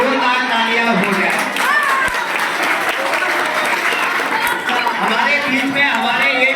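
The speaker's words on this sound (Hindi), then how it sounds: "इनके लिए भी जोरदार तालियां हो जाए।" Loud, dense applause from the gathering at a Hindu temple's Hanuman Chalisa evening, continuous clapping with crowd voices and chatter mixed in throughout.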